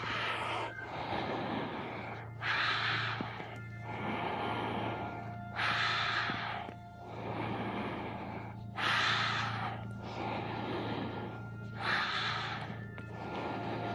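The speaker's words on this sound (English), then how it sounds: "Go at your own pace here and really feel the breath moving your body." Slow, deep yoga breathing: about five unhurried in-and-out breath cycles, each a soft airy swell a few seconds long, close and steady over a low constant hum, with no talking.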